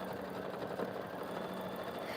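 Steady mechanical whir of an embroidery machine stitching a mug rug in the hoop, a continuous rapid rhythmic buzz held at an even, moderate level throughout.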